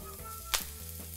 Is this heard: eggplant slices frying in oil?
yes